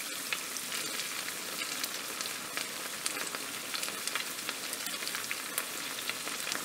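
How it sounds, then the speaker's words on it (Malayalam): Kannur-style neyyappam made from leftover rice fries in hot oil, a steady bright sizzle with scattered pops and crackles, close and continuous with no voices. "ഒരു ഭാഗം ഫ്രൈ ആയി വരുമ്പോൾ നമുക്ക് മറിച്ചിട്ട് കൊടുക്കാം"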